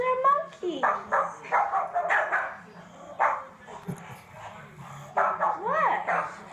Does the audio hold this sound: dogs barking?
yes